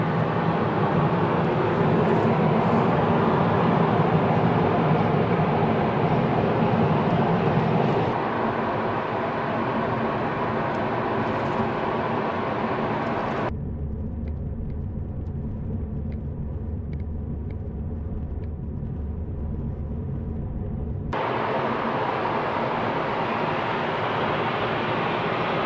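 A car cruising along an open interstate highway gives off a steady interior road rumble and engine drone, with a brief duller, muffled stretch partway through before the fuller road noise returns.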